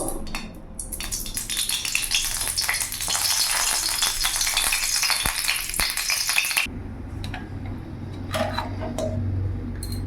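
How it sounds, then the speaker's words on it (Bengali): Refined oil poured into a hot kadai for frying fish in a home kitchen, a loud, dense crackling sizzle that fills the first six or so seconds and then drops off sharply, leaving quieter clinks of utensils. "কড়াই গরম হয়ে গেছে, আমি এখানে রিফাইন অয়েল দিয়ে দেবো।"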